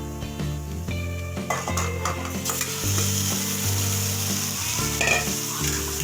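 Marinated chicken sizzles loudly in a pan with onions fried golden brown for a spicy methi chicken curry, steady hot frying with a spatula scraping and stirring and occasional metal clinks, close-up, no talking.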